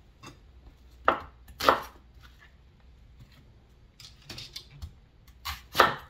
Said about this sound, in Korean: 양파 2개를 4등분으로 썰겠습니다.